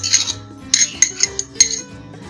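Mustard paste and spices going into a bowl to make a marinade for whole tilapia: a handful of sharp metallic spoon clinks and taps against the bowl, close and distinct, with no speech.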